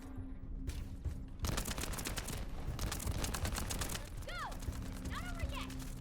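Rapid bursts of gunfire in the video game The First Descendant crackle in quick repeated volleys, fairly close, with a few whooshing sweeps layered in and a voice talking over the action.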